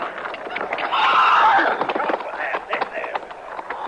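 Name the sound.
horse neighing and hooves clip-clopping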